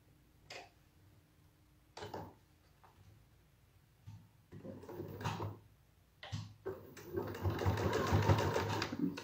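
A home sewing machine top stitches a three-layer fabric face mask, its fast mechanical whirring coming in short bursts between quiet pauses and building into a longer, louder run of stitching near the end.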